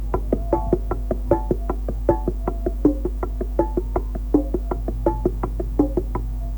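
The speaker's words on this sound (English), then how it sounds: "We've got a high bongo and a low bongo." Hand-played bongos tap out a quick, steady rhythm, alternating higher and lower drum tones, close and clear with no talking.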